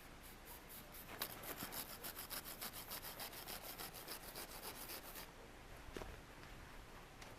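A handsaw cuts snow blocks for an igloo in quick, even back-and-forth strokes, a dry rasping rhythm close by that stops briefly before one last scrape.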